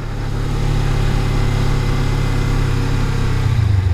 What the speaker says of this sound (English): what I did is I gave it a little bit of gas